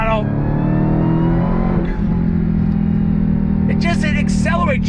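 A 2022 Dodge Challenger Hellcat Jailbreak V8 under full throttle, a loud, dense engine roar with a rising pitch that stays close and steady throughout, and a voice breaking in briefly near the end.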